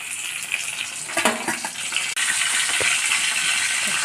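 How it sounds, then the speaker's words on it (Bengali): Whole cumin seeds and bay leaves sizzle in hot oil, a bright steady hiss with brief spatters and a few clinks of stirring, close and fairly soft. "গোটা জিরা ফোড়নে দিলাম"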